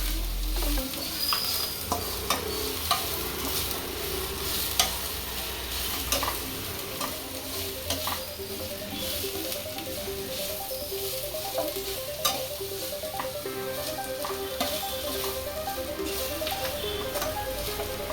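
Capsicum stir-frying for Indo-Chinese kabab chilli, with a steady sizzle and repeated scraping and clinking of a spatula against the pan in irregular strokes, no talk.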